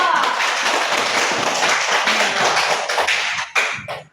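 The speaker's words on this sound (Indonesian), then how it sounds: "Kita beri tepuk tangan untuk kelompok audio." A classroom group gives applause, with steady clapping and tapping mixed with chatter from the room, close and fairly loud before trailing off near the end.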